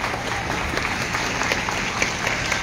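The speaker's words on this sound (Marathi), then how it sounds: "आई वडिलांसाठी एकदा जोरदार टाळ्या वाजवून त्यांचा सत्कार करा" Applause from an audience for students' parents at a Baramati event, dense continuous clapping from a large crowd, loud and sustained throughout, with no voices over it.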